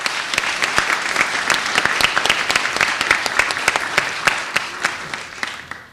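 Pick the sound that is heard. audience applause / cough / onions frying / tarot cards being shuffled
audience applause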